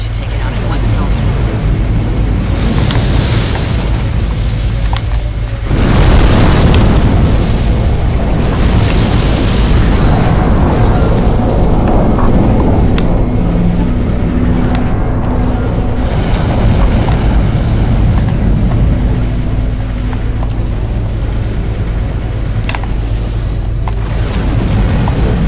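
Cannons being destroyed in the mech video game Armored Core for Answer, with booming explosions and a loud blast around six seconds, over a continuous rumble of game noise and wind-like roar.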